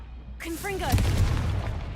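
In Hogwarts Legacy, a Confringo fire spell goes off with a whooshing cast that builds into a rumbling explosive blast, loud and close, then trails off into a roaring tail.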